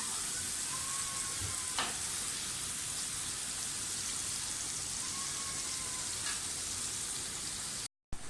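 Chicken breast frying in oil in a pan over a low-medium flame, with a steady, close, continuous sizzle and crackle that carries on alone throughout, cut off briefly at the very end.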